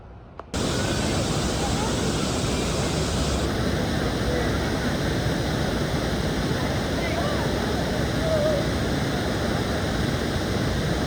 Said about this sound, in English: Here's some really cool waterfalls that we saw there.